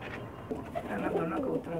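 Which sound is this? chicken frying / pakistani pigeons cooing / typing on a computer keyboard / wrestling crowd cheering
pakistani pigeons cooing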